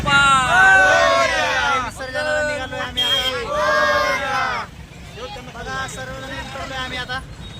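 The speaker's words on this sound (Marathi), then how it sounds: "मोठ्या प्रमाणावरती गर्दी आहे" A large crowd gathers at a Ganesh immersion procession in Pune, with loud nearby voices calling and chanting over a continuous background babble of people.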